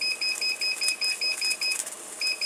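A digital kitchen timer being set for a pressure-canning run of turnip greens gives a rapid series of short, sharp, regular electronic beeps, loud and close, with a brief pause near the end before the beeps resume.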